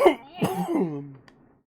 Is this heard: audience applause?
no